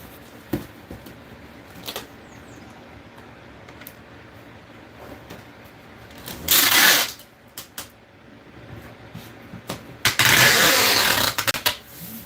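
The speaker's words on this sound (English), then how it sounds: "You're going to hear some paper and tape." Box being packed with paper and tape: scattered rustles and taps, then two loud bursts of ripping packing tape pulled from a roll, fairly close, with quieter handling noises between them and no talk.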